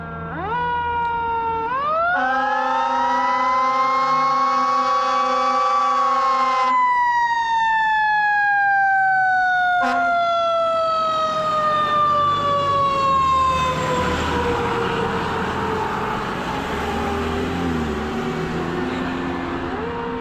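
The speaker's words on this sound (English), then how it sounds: "So the fire truck." A loud fire truck siren rises and winds down in long wails, with a horn blast partway through, close by over rumbling traffic on a street in Maine.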